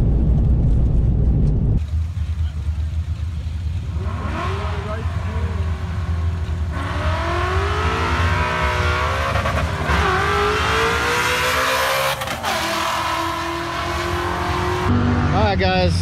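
A Coyote-swapped Foxbody Mustang launches hard, its V8 roaring up through the revs as the tires spin and squeal at length, loud and close, before the engine note fades and drops away.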